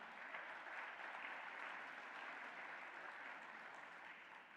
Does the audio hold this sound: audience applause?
yes